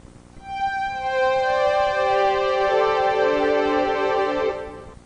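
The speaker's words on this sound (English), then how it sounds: "The slave device sounds like strings." Sustained synthesizer string-pad chord played by a MIDI slave device, swelling in smoothly and holding steadily for several seconds before fading, alone with no talk.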